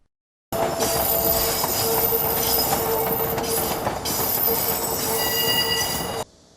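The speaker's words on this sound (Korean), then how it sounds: "전동차 입출고 과정에서 발생하는 소음도 상당한데" Seoul Line 7 subway trains moving through a rail depot, a loud continuous rumble with rattling wheels and high metallic squeals, steady for about six seconds before cutting off abruptly, no talk.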